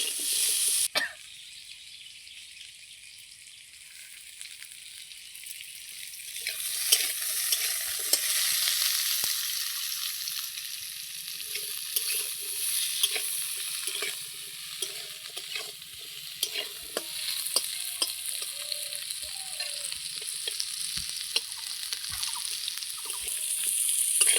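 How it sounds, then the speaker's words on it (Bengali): Carrot fries in a kadai with salt and turmeric while being stirred. A close, continuous sizzle rises after a quiet first second, with scraping stirs and a brief cough, and no speech. "গাজরটাও ওই একইভাবে লাল লাল করে আমি খুব সুন্দর করে লবণ হলুদ দিয়ে ভেজে নেব"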